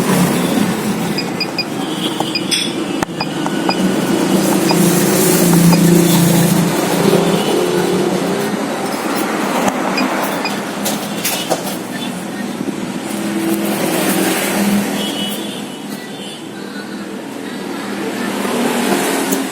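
A Kawasaki Z250 motorcycle, running rough with black exhaust smoke and no steady idle, starts and runs in a workshop, its engine droning steadily and swelling in gentle revs, close and fairly loud.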